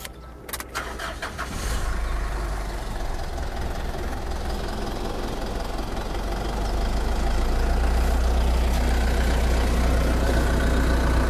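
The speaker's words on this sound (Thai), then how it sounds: "เดี๋ยวผมเปิดห้องเครื่องยนต์เดี๋ยวลองฟังเสียงเครื่องยนต์ดูนะครับ" A Mitsubishi Pajero 3.2 diesel 4x4 engine turns over and settles into a steady, low, rumbling idle that grows slightly louder partway through, close and continuous, heard with the bonnet open.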